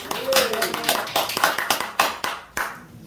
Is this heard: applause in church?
yes